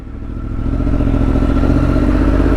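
Yamaha MT-10 motorcycle idling while it warms up, a steady close engine rumble with a fast, even pulsing beat that grows slightly louder in the first second and then holds level.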